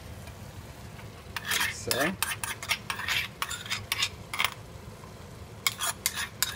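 A spoon stirs chickpeas and coconut milk in a pot with repeated scraping strokes in bursts, then a short pause, then a few more strokes; a brief word is spoken partway through.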